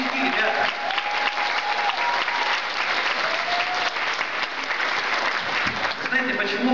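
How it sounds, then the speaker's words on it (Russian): A seminar audience applauds newcomers with dense, sustained clapping from many hands, loud and close, while a voice speaks faintly through it. "Ну, разве так аплодируют?"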